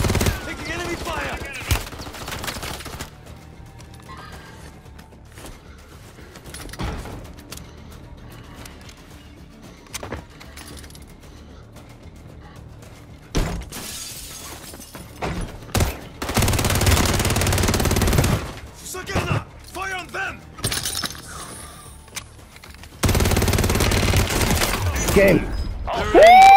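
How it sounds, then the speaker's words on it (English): Video game gunfire heard while taking enemy fire: scattered shots and bursts of automatic fire, with dense loud volleys near the middle and end, interspersed with quieter stretches and some voice. "Taking enemy fire."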